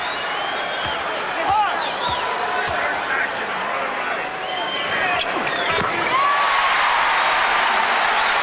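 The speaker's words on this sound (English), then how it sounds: "And again the crowd getting into it." Arena crowd roaring and cheering steadily through a 1991 NBA Finals game between the Chicago Bulls and Los Angeles Lakers, with sneaker squeaks and ball bounces on the court and a commentator talking over the din.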